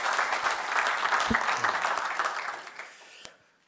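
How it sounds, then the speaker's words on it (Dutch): A conference audience at a Dutch open-source user group event gives warm applause for the speaker, a full burst of clapping that fades away over a few seconds. "Dus een hartelijk, hartelijk warm applaus voor Sake."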